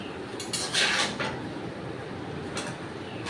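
Metal spatula scraping and clanking against a cooking pan while stirring Maggi noodles with potatoes, a few quiet metallic clinks and scrapes, one brighter rattle early on, over low kitchen background.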